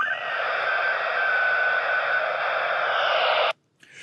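An SSTV image signal received by radio from space, with no fancy antenna, plays as a steady, loud warbling tone over hiss for about three and a half seconds, then cuts abruptly to faint static.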